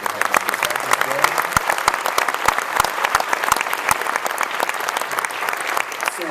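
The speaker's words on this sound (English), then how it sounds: "so if you just give them a big round of applause for all their work." Steady applause from an honor band concert audience, dense clapping that holds at a constant level throughout with a few sharper individual claps standing out.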